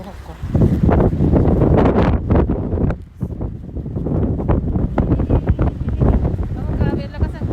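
Strong wind batters the microphone outdoors in loud, irregular gusting bursts with a short lull midway, while a voice talks underneath.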